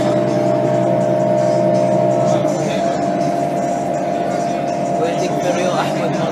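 Steady loud engine drone and road rumble fill the interior of a moving bus in Al Ain, continuous throughout with passengers faintly present in the background.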